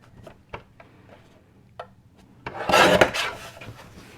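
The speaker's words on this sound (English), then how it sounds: "And then I'm going to cut that to 3 3/4 by 5" Cardstock being cut to size for a decoupage napkin birthday card: a few light clicks and taps, then a louder, brief rasping cut lasting over a second, close up with no talking.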